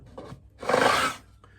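A metal file rasps across guitar fret ends in short, close strokes: a faint scrape, then one long, loud grinding pass, then a brief final touch.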